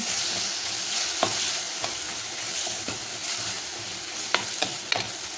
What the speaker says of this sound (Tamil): மஞ்சள் பொடி சேர்த்துட்டு இதையும் நல்லா மிக்ஸ் பண்ணி விடுங்க நல்லா வதக்கி விடுங்க